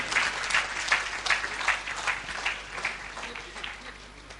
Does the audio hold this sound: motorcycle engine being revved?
no